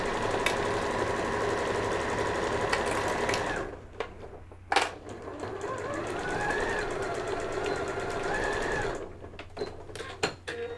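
A sewing machine stitches a fabric pocket placemat in fast mechanical runs, pausing briefly between bursts, with small clicks in the gaps.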